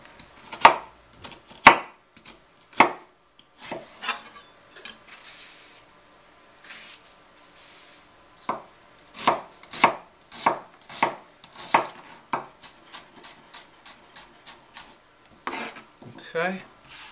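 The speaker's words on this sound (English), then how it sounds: "we're going to chop up one small onion, a fine dice like this." A knife chops a small onion into fine dice on a cutting board, a run of crisp, quick taps in bursts with short pauses between them, close and clear.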